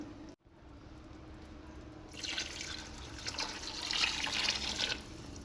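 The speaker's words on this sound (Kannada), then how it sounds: "ಇವಾಗ 2 ಪಾವು ಅಕ್ಕಿಗೆ 4 ಗ್ಲಾಸ್ ನೀರು ಹಾಕ್ತಾಯಿದ್ದೀನಿ" Water poured from a glass into rice in a pot for palak chicken pulao: a quiet start, then a steady splashing pour that swells for a few seconds before easing, close and alone.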